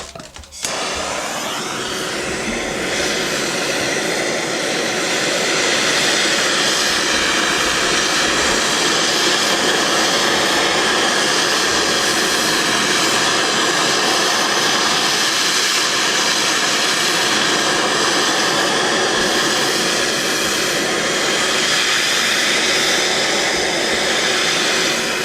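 Torch flame heating a stuck hub on an old Suzuki LT185 frame: a loud, steady roaring hiss that flares up at the start and holds for a long stretch, close by, with no talking.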